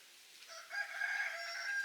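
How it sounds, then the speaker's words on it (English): A rooster crows close by, a single drawn-out call rising out of quiet background. "Surrounded by chickens."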